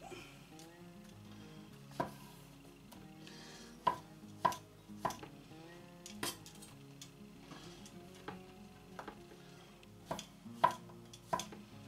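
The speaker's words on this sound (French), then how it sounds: "Bon, on a coupé nos champignons" Knife chopping mushrooms on a cutting board, a quiet kitchen with a dozen or so sharp, irregular taps of the blade striking the board, spaced unevenly with soft handling noises between them.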